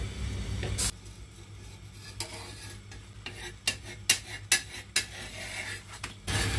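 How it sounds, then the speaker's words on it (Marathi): Thin maize bhakri flatbread laid on a hot griddle, with sharp metallic scraping and tapping clicks from a utensil, a soft sizzle beneath, and a loud clatter at the start and end. "आता ही तव्यावर घालून घेऊया। ही तव्यावर घालून घेते।"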